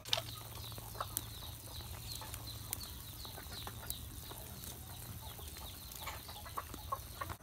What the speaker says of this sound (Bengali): এদিকে দেখেন আবেদার মুরগিগুলার খাবার দিছে।